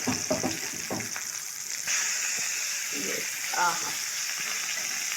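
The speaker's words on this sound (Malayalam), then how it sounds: "അപ്പം അത് കിടന്ന് പൊരിയട്ടെ" Fish sizzling in hot oil in a pan, a steady bright frying hiss running throughout, with a man's brief exclamation near the start and soft clatter of turning the pieces.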